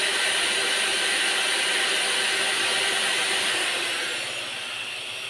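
A large dynamo running off mains power, rated at only 180 volts AC, gives a loud steady broadband hiss and whine that eases slightly toward the end, with no talk.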